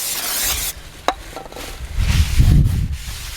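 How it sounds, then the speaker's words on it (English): Brake cleaner hisses from a spray can onto new oily brake discs of a MK1 Focus ST170, a broad airy spray in short bursts, followed by dripping and fizzing noise close up. "So, brake cleaner."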